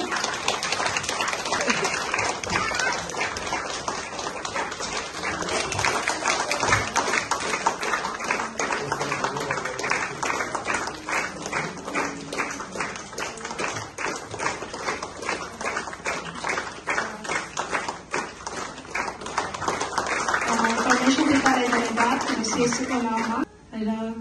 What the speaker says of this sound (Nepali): सबैजनाले एकदमै ताली बजाइदिनु